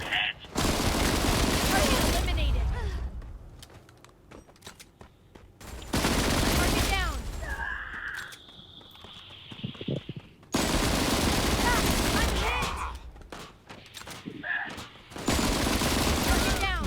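Rapid automatic gunfire from a light, fast-firing gun in the video game Disorder, coming in three long loud bursts separated by short pauses, with some talk in between.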